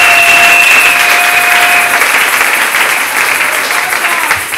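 A church congregation applauding, loud sustained clapping that slowly fades, with faint voices and a brief tone mixed in.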